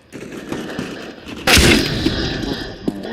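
Gunfire in Counter-Strike, a sudden loud burst of shots at about one and a half seconds followed by rattling echoes and further scattered reports, over a low steady game background without speech.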